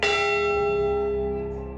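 A single struck stroke of the memorial bell for the Edmund Fitzgerald crew rings out loud and clear, its tone sustaining and slowly fading.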